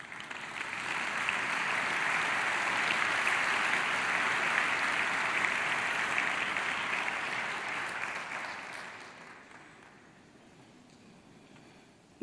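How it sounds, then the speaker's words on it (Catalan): A large audience at the 2014 Girona literary awards ceremony applauds in a dense, steady roar of clapping that holds strongly for several seconds, then thins and fades away near the end. "Fort aplaudiment."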